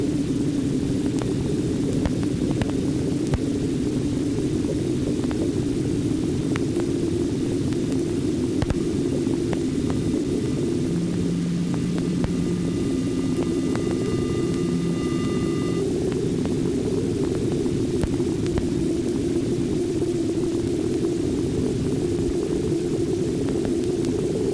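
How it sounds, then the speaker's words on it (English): Radio emissions from a distant planet picked up by a spacecraft and turned into sound: a steady hissing, rumbling drone with faint tones that hold, rise and fall, carrying on unbroken the whole way through. "The radio emissions are as mysterious as the planet itself."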